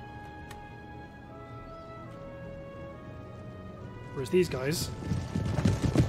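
Provincial cavalry horses in Empire: Total War clip-clop their hooves beneath sustained background music, growing busier toward the end as someone speaks over them.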